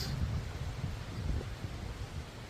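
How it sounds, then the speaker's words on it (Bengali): Strong wind blowing at a forest eco resort in Mongpong, heard as a continuous low, rumbling buffeting with gusty swells and a faint rustle, loud and unbroken from start to finish. "আজকে প্রচণ্ড হাওয়া দিচ্ছে"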